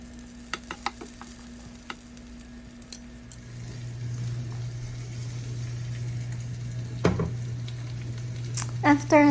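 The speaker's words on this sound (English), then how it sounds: "We're gonna saute the garlic and then followed by the pepper. Let's give it a stir." Garlic sautéing in a pan, a low steady sizzle that swells partway through, with light clinks and scrapes of stirring and a few sharp taps.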